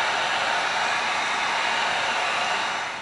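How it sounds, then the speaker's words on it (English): A heat gun blasts hot air over EVA foam to heat-seal it, a loud, steady close-up rushing hiss that fills the whole moment with no talking. "We're just gonna go ahead and heat seal the whole thing."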